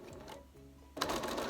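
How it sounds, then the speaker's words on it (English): Sewing machine stitching fabric for a wash bag, running in a steady fast whir that starts abruptly partway through after a quieter stretch, close and fairly loud. "when you're coming up to the corner, slow your sewing down, pivot"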